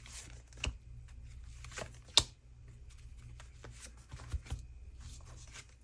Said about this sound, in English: I'm going to draw 3 more cards.